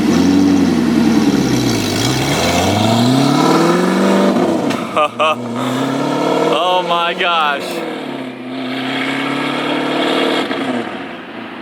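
Audi R8 fitted with an Armytrix exhaust pulls away hard from a standstill in comfort mode, a loud rising engine note climbing through sweeping gear changes with brief shift breaks, a person exclaiming over it.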